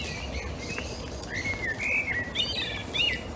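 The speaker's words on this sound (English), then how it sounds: "A blackbird just went over, and there's one singing up at the top of this tree here." A blackbird sings from the top of a tree in breeding season: fluty, warbling phrases, moderately close, with faint background noise.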